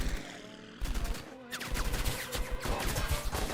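Bursts of rapid gunfire crackle in the distance near Rotterdam, coming in uneven volleys over a low, rumbling background.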